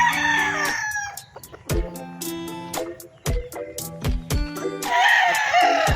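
A young gamecock rooster of battle-cross breeding, seven months old, crows loudly and close, with clucks and other fowl calls around it on a farm.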